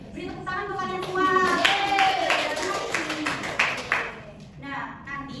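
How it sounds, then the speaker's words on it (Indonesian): A class of children clapping hands together in a classroom lesson, a burst of uneven claps alongside children's voices and speech, moderately close and lively. "Beri tepuk tangan untuk kalian semua."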